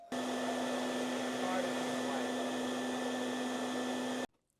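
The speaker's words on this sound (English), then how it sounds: "You can use any hair dryer." A hair dryer runs steadily at close range with a constant whirring hum, then abruptly switches off near the end.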